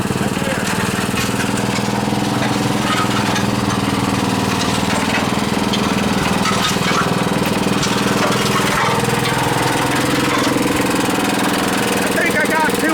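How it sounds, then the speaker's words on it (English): A cement mixer with a new engine runs steadily at close range, a loud, continuous rattling drone with a knocking mechanical texture, while a person talks over it. "And look at the cement mixer."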